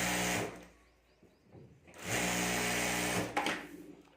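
A sewing machine stitches a zip onto a homemade sling bag in two bursts of rapid, buzzing whir with a quieter pause between, close by and without talk.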